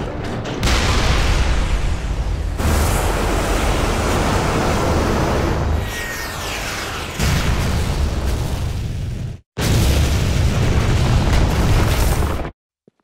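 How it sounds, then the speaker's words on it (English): A missile strikes the Tokyo seawall in the video game Binary Domain, producing a loud, sustained roaring blast with rumbling tremor, broken by abrupt cuts and a second surge of heavy noise before a sudden stop. "So what was that tremor? The Order test missile was fired at the Tokyo seawall."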